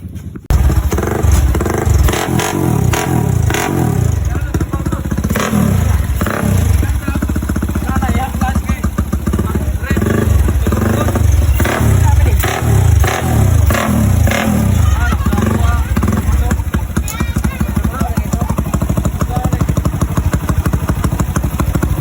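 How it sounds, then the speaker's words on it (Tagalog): A black Honda Wave 125 motorcycle fitted with a Motoaro 4-valve head runs and revs close by, with a steady engine drone, repeated throttle blips and mechanical clatter that go on throughout. "Motoaro head 4-valve lang pala yung karga nitong Wave 125 na kulay black. So, tingnan yung sound check natin."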